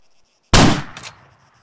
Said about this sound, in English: I'm shooting at an AI on the West Mountain